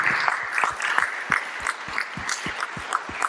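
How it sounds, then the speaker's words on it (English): An audience at a panel conversation on queer cinema claps for the organizers and panelists, a lively burst of close, rapid handclaps that holds steady for a few seconds. "Let's give a big round of applause to the organizers and the panelists."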